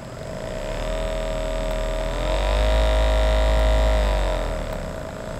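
A handheld massage gun runs steadily with a loud, close motorized buzz and strong whine, swelling slightly in intensity midway, with no talking over it.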